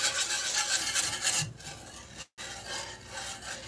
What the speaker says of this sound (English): The reason you're using your whisk is because you want to break down everything.